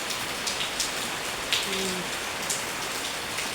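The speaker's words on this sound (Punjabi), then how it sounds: "ਮੌਸਮ ਦੇਖੋ ਤੁਸੀਂ ਮੀਂਹ ਪੈ ਰਿਹਾ ਆ" Steady rain falls and patters on surfaces in the Punjab countryside, a dense, even hiss with occasional louder drips, close and continuous with no voices.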